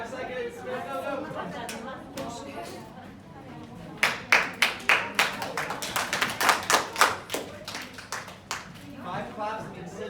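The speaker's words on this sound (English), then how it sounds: "5 claps means sit down, quiet, ready to start." Students in a classroom clapping a signal to sit down and get quiet: a burst of sharp, rhythmic claps rises after some chatter, then continues in uneven groups with voices around them.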